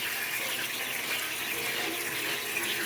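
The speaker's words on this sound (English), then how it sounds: "right now I'm rinsing it with cold water because I don't want it to get" Cold water runs steadily from a kitchen tap over cooked pasta being rinsed, a constant close splashing gush with no pauses and no talk.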